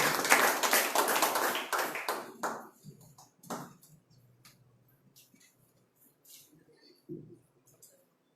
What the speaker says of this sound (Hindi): हम प्रभु के दास सुदय का स्वागत करते हैं तालियों से।